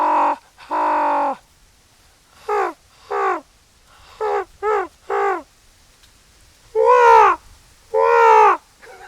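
A person imitates a game-animal call with a growly, back-of-the-throat voice, aimed at turkey, deer or coyote calling: nine or so separate raspy, moaning calls in short bursts, close and loud with pauses between.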